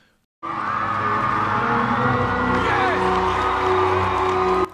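A large audience erupts in cheering and applause, with whoops and shouts over sustained clapping that starts abruptly and stays loud and dense throughout.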